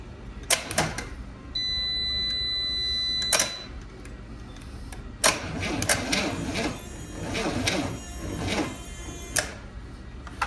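A Chevy 230 inline six, sitting unrun for about 35 years, cranks on a weak battery: strained starter whine and grinding bursts, fairly loud and close, with sharp clanks in between.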